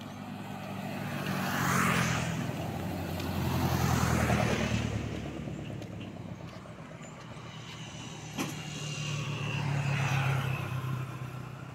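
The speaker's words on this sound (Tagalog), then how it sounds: "Ayan, may truck." A truck rolls past on a mountain road, its broad engine rumble swelling and fading in slow waves, with a brief sharp click midway and no talk.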